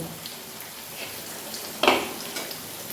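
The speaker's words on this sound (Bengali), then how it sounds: "আলুগুলোকে লাল লাল করে ভেজে নেব।" Potatoes frying in oil to a reddish brown give a soft, steady sizzle with faint crackles, and one sharper spatter burst stands out near the middle.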